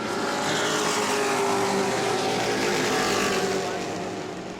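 Race cars roar around a short speedway in an E-Mod race at New Smyrna, a loud, steady engine drone sustained close by before easing slightly at the end.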